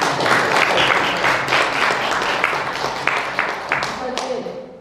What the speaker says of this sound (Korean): 감사한 박수를 한번 보내드려 좋겠습니다.